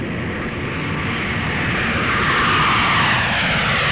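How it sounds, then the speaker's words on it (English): A jet engine roars at takeoff, a loud, dense, continuous broadband blast that swells slightly over a few seconds, close and overwhelming, with no voices. "what is the decibel level of a jet engine taking off?"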